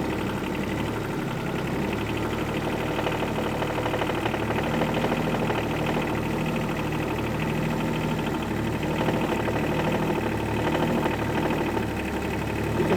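Tractor engine chugging at a steady idle-like drone while a dozer blade scrapes through blackberry brambles, a constant mid-pitched rumble with faint knocking vibration throughout and no one speaking.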